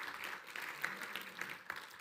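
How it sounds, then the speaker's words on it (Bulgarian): Church congregation applause, fairly quiet and distant, a soft wash of clapping with a few sharper individual claps standing out over the brief stretch. "Нека да дадем аплодисменти на живия Бог."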